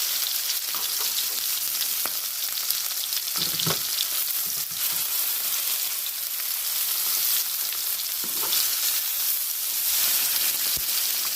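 Stuffed chicken sears in a hot pan after being flipped, giving a steady, even sizzle with faint crackles throughout, close and alone.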